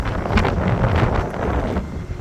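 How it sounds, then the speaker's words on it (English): Strong wind buffets the microphone outdoors at an electric vehicle charging station, a continuous rough roar with gusty swells and no clear speech. "It's so windy out here."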